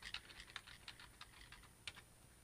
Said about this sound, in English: And then I type in my password